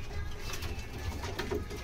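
Madras giribaj pigeons cooing in a loft, soft low coos under a busy rumbling background.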